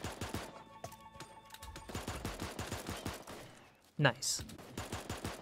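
Quick volleys of gunfire in Super Animal Royale pop in rapid, evenly spaced shots at moderate level, pausing briefly before a sharp louder blast, with a voice commenting over it.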